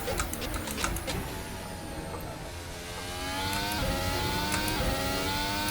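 A high, whining Formula 1 hybrid car engine in Assetto Corsa at the Red Bull Ring revs and drones continuously, its pitch rising and falling, with a few sharp clicks scattered over the top.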